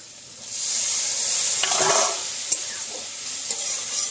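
Spices with a splash of water are stirred and sautéed for a village-style rohu fish curry over a clay stove, a loud hissing sizzle swelling as the liquid hits the pan, with a few sharp scrapes.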